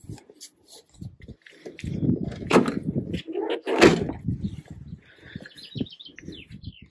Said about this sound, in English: I'm going to shut the doors.